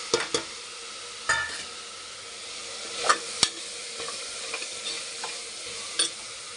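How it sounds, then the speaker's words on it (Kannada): Masala powders frying in a pan for vegetable pulao, a steady close sizzle broken by scattered scraping clicks of a spoon stirring against the pan, with no talking. "ಇದೊಂದು 5 ನಿಮಿಷ ಸ್ವಲ್ಪ ಫ್ರೈ ಆಗಲಿ ಫ್ರೆಂಡ್ಸ್."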